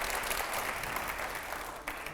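Sustained audience applause fills a TV studio during a political interview, a dense, steady wash of clapping that holds at an even level for the whole stretch.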